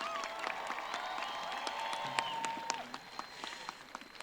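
A graduation crowd at a high school commencement applauds the class of 2022, a dense, fairly distant patter of clapping with scattered whistles and cheers that swells briefly and then thins out.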